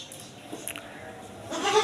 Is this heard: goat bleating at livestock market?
yes